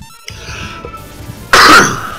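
A person coughs once, a sudden loud harsh burst near the end that tails off raggedly, following a soft click and quiet background tones.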